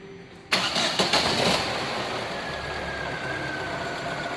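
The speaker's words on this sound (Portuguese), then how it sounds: "Agora a gente vai funcionar aí para ver o barulho que ele está fazendo parado." A Fiat Strada 1.8 with a noisy, growling gearbox cranks and fires up, revs briefly in a few pulses, then settles into a steady idle with a faint whine running underneath.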